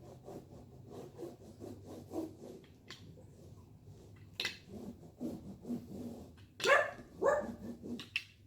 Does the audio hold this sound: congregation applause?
no